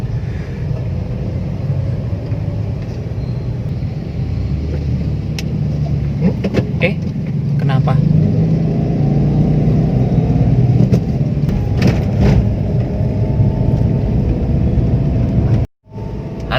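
Heavy rush-hour traffic jam on a street in Batam, a dense continuous rumble of car and motorbike engines with occasional revving, heard up close while someone speaks briefly.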